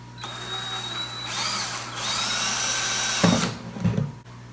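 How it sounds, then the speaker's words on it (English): A power drill whirs loudly up close in two bursts while drilling a hole in a plastic lid, spinning up, running a couple of seconds, then stopping, with a short rattle after. "What we're gonna do is drill a hole"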